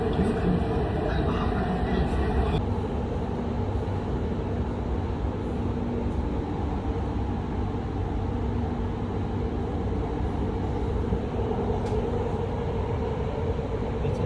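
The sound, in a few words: Qatar metro train running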